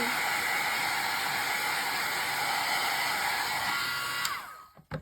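A blow dryer runs steadily at high speed to dry a taped piece, a loud continuous close whoosh that holds for about four seconds before being switched off and winding down.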